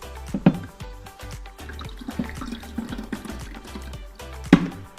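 Water poured through a funnel into the one-litre tank of a Karcher steam cleaner, a close, continuous gurgling trickle with a couple of sharp clunks from the plastic, no talking.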